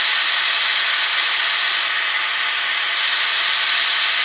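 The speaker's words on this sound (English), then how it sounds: "So I'm going to spin the lathe and then just put in" A wood lathe spins with a steady, broadband whoosh and rubbing friction as rosewood is pressed against the work to burn it; the sound is continuous and close, dipping briefly midway.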